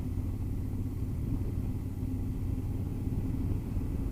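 A Triumph Thunderbird 1700 motorcycle being ridden, its engine a steady low rumble with constant road and wind noise throughout, heard close and unbroken.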